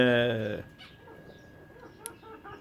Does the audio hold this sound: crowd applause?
no